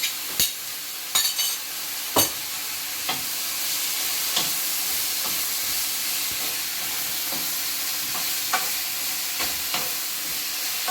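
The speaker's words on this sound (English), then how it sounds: "Heat up a little bit more and put in your mushrooms." Mushrooms stir-fry in a hot pan with eggplant and tomatoes, a steady sizzling hiss broken by sharp scrapes and clacks of a utensil stirring at irregular intervals, close and alone.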